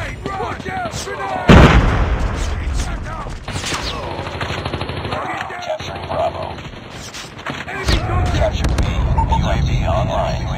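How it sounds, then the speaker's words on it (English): Grenade blasts and rapid gunfire in a Call of Duty: Mobile 10 vs 10 capture match, with a loud burst near the start and continuous shooting beneath game voice callouts throughout. "Grenade, run! Watch out! Grenade!"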